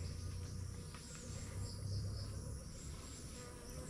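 Honeybees swarm around an open hive that has no queen and no wax. They make a steady, close droning buzz that holds an even level throughout.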